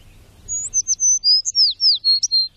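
Birds in the Chernobyl exclusion zone sing a quick series of thin, high chirps and whistled notes, about a dozen in rapid succession, clear and fairly near over faint low background rumble.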